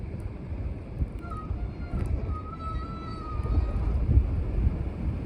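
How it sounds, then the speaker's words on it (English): Strong wind buffeting the microphone at a beach at low tide, a loud low-end rumble with gusts that swell near the end, along with some distant surf. "I'm filming through a cover because the wind is so strong"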